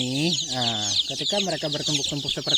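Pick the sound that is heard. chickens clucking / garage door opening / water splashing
chickens clucking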